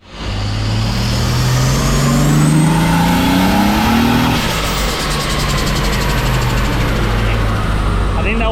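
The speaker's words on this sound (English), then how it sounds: "I think that was a clutch slip." A turbocharged Ford AU Falcon roars loudly and steadily on a dyno run, its engine note rising then flaring as the clutch slips, with a continuous close engine drone throughout.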